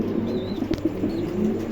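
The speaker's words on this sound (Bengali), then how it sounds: "প্রিয় দর্শক, এখানে একজোড়া লাহোরি কবুতর আছে" A pair of Lahori pigeons, a cream-barred male and a female, coo low and close beside a faint, thin chirp, with no one speaking.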